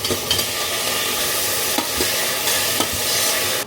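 Tomatoes sizzle and bubble in a hot pan with a little water while a utensil crushes and stirs them, giving steady frying hiss broken by several sharp scraping clicks, close up.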